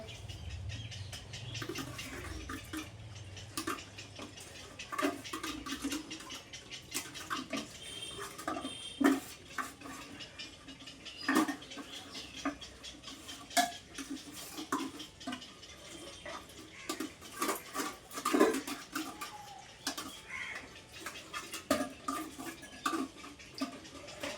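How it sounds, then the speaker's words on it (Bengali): Dishes are scrubbed and rinsed one by one, with frequent irregular clinks and clatters of pots and utensils over running and dripping water. The sounds are moderately close and continue steadily, with no talking. "একটা করে মেজে নিই আর একটা করে ধুয়ে নিই"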